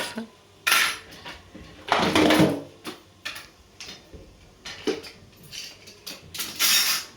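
Metal spoons clink against a glass in several separate bursts of bright, close clatter, with short quiet gaps between them and no speech.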